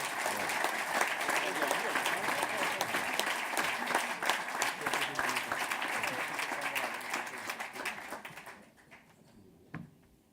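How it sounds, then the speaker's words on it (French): An audience at a French farmers' and artisans' cooperative gathering claps loudly and steadily for several seconds, then the applause thins and fades, leaving a few faint sounds at the end. "Je vous invite à les applaudir."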